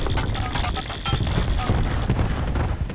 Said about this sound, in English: Enemy cluster grenade.